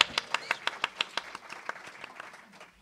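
Audience applause after a dinner gathering at a live-streamed event, a burst of distinct, fairly close hand claps that thins out and fades over a few seconds.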